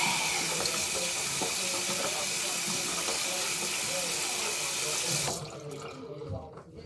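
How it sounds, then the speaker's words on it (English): A sink tap runs in a steady hissing stream while hands are washed, loud and close, then the water shuts off near the end and only faint room noise remains. "I feel like I just need to wash my hands"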